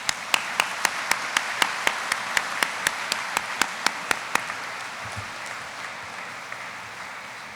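A crowd at a warrant officer graduation ceremony claps for the graduating class, with sharp, evenly spaced loud claps cutting through a broad wash of applause. The claps stop partway through and the applause fades out.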